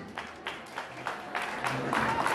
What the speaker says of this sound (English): Let us clap hands for them as they leave the stage.